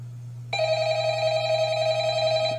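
A phone rings in the Undertale Skeleton Tales video game, a bright electronic ring that starts abruptly and holds steady over a low constant game hum, with no talking.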